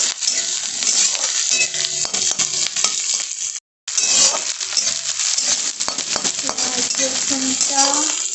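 Garlic frying over raised heat in a pan for a chicken dish, a steady loud sizzle with stirring scrapes and clinks, briefly cut off partway, no talking.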